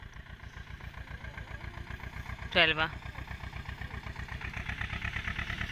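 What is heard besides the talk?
tractor engine running in field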